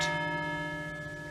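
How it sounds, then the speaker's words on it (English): Bells at Haus Ohrbeck chime with a sustained ringing tone that slowly decays, moderately faint and steady over a short stretch, with no talking. "since we hear the bells chiming there"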